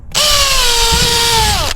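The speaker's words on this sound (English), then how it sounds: "I'm just gonna drill 2 holes right now" A power drill spins up loudly and close, holding a steady whine for about a second and a half while boring into the plastic of a Toro TimeCutter zero-turn mower for a gas gauge, then stops abruptly.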